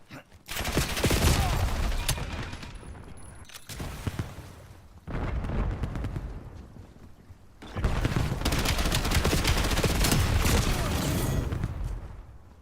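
Gunfire in an online first-person shooter match, loud bursts of rapid shots in several long volleys separated by short pauses.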